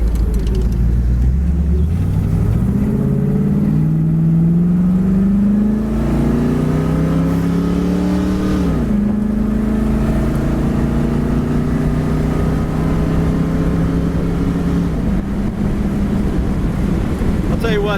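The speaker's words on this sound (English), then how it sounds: "this is a 326 HO motor, high output" Engine of a 1967 Pontiac Firebird convertible with a factory 326 HO V8 revving, a loud, close, deep roar that climbs steadily in pitch, dips briefly, then holds a high steady drone.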